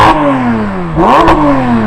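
A flat-six Porsche 911 GT3 sports car engine revs hard while stationary, its pitch dropping and then rising sharply again into a soft limiter. The rasping note is loud and close, with no one talking over it.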